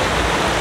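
A stream rushes down a waterfall on a walking trail in the Brecon Beacons, Wales, a loud, steady wash of water heard close and alone.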